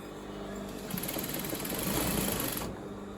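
A sewing machine runs a quick burst stitching a fabric scrunchie, a rapid mechanical whirr with a high whine that holds for about two seconds before cutting off, close and clear.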